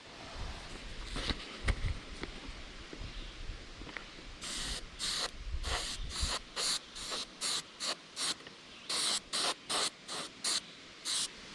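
Short bursts of an airbrush or spray gun applying gold pearl paint to a largemouth bass fish replica for taxidermy reproduction, a rapid series of close, sharp hissing puffs in a steady rhythm after some quieter handling noise, with no talking.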